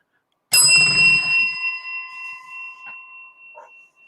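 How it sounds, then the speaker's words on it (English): A single bright bell ding rings out loud and clear, then its pure tone sustains and slowly decays over several seconds, with a faint second chime near the end. "Ring that bell, the reminder bell for upcoming content."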